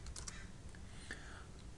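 Typing the U key and spacebar on a computer keyboard while using PractiCAD software: a couple of quick, soft key clicks near the start, faint and close over low background hiss.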